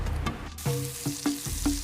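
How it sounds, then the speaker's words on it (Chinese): Crayfish deep-frying in oil heated to 300 degrees for a Hunan dish, heard as a short burst of bubbling sizzle with a few rhythmic clanks of a utensil against the wok, no voices. "300度的油温下锅油炸，表面快速熟透酥香。"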